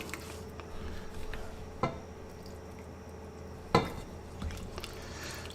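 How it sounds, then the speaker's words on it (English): Milk being stirred into macaroni and cheese in a pot, soft wet stirring under a faint hum, broken by two distinct spoon knocks against the pot, no voices. "they're going to keep on stirring that in until it heats up a little bit."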